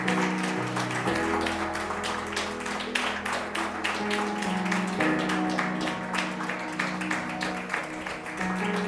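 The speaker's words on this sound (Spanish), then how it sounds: "¿Qué tal si le damos un fuerte aplauso al Señor?" A church congregation applauds together at a service, steady dense clapping carrying on for several seconds over sustained music in the background.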